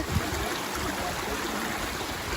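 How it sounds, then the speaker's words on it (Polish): A large waterfall roars as a steady broadband rush of falling water, continuous and fairly loud with no voices over it. "To jest duży e, wodospad."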